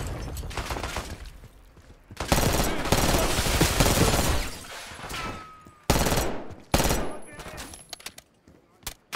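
Machine gun fire in Call of Duty Black Ops 6 crackles in loud sustained bursts, a long volley, then sharp shorter bursts separated by brief gaps, with close, aggressive shots dominating the mix.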